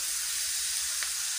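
Pork with sautéed onion and garlic sizzles and hisses steadily in a pan, a brief close frying sound with one soft stirring scrape.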